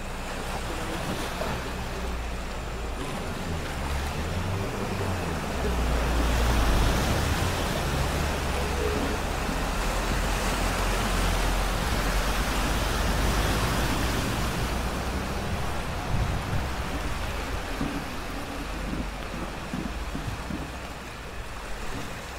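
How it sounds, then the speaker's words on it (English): Strong storm wind roars continuously with heavy broadband rushing and buffeting against the microphone, a loud, unbroken wash of noise with no voices. "It's so windy."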